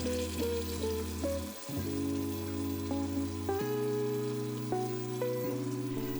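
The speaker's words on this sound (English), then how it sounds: "it's time to add in canned tomatoes" Canned tomatoes hitting a hot pot of softened fresh tomatoes for a Hong Kong-style tomato macaroni soup, a steady crackling sizzle partly masked by sustained background music.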